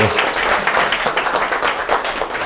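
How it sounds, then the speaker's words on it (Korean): A colloquium audience applauds a research institute director after his talk, a short burst of lively clapping from a roomful of people. "다시 한번 인유한 소장님께 박수 한번 드리겠습니다"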